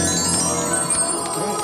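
A cartoon boxing bell rings out with a sustained, shimmering metallic tone that holds steady for under two seconds, loud and alone with no voices over it.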